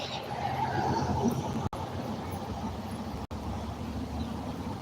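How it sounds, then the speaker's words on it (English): A horse whinnies at a distance over steady outdoor background noise, heard once early and faintly. "Oh my god, there's horses in the distance"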